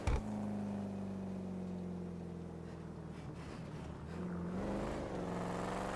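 A police car in a roleplay video game drives with a steady engine drone that stays level throughout and rises slightly in pitch near the end, with no talking.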